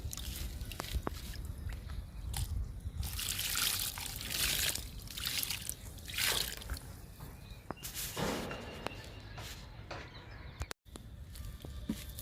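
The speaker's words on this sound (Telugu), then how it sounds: "డబ్బా పెడుతున్నా ఇంకా లిక్విడ్ ఇచ్చేద్దాము" Liquid fertilizer trickles and patters onto the soil of a potted flowering plant, a steady close pour with small splashes and dribbles running through the clip, no talking.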